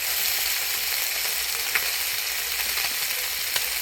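Tangra fish frying in oil, a dense continuous sizzle and crackle close by with a few faint pops, steady throughout and with no voices.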